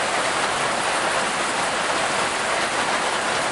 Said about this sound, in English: I love the sound of rain on a tin roof.